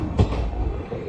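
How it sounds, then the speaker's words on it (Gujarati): Pune Veraval Express (train 11088) pulling out of Gondal station, heard from on board as a steady low rumble of moving carriages with a brief clunk near the start. "અરે ગોંડલ થી ટ્રેન નીકળી ગઈ છે રાઈટ ટાઈમે।"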